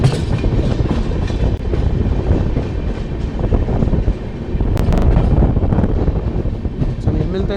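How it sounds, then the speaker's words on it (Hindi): Sarbat Da Bhala Express (22479) running at good speed on the main line while taking a small curve, with a steady loud rumble and rattle of wheels and coaches plus wind noise, continuous and close throughout. "अच्छी रफ्तार के साथ हमारी ट्रेन अपने गंतव्य की ओर बढ़ते हुए सरबत दा भला एक्सप्रेस मेन लाइन पे जाते हुए छोटा सा कर्व लेते हुए"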